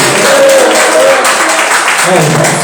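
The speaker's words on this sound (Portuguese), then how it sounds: "Salve de palmas para Jesus" A church congregation claps for Jesus during a service, a loud dense rush of hands mixed with shouting voices and an occasional sung or called note, sustained and energetic throughout.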